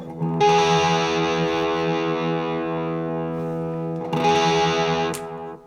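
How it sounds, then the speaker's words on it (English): Open strings of an electric guitar ring slightly out of tune through distortion, two sustained strummed chords with a beating, rubbing shimmer, loud and close with no talk. "If it's out of tune, say like this, I can hear that rub a lot more than if it is in tune."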